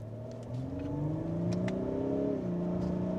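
A 2024 Lexus LS500 with a twin-turbo V6 accelerates in Sport Plus, its engine note climbing steadily in pitch, briefly dropping at a gear change and then pulling again, heard from inside the cabin without talk.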